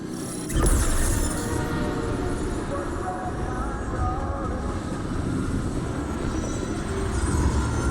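A Destiny 2 train passing close by, a sudden clanking hit at the start, then a sustained heavy rumble and rattling roar that holds steady to the end.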